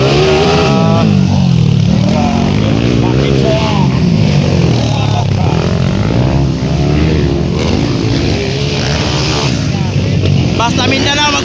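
Motorcycle engines drone and rev at a motocross race track, with underbone bikes competing. The engines are loud and continuous, with excited crowd voices and talk throughout.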